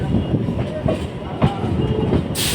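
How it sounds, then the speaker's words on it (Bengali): A local train on the Sealdah–Namkhana line pulls into platform four of a four-track junction station, its steady rumbling and rail clatter continuous and fairly close, ending with a burst of hissing noise. "আমাদের ট্রেন দেখো এই যে চার নম্বর প্ল্যাটফর্মে দিচ্ছে"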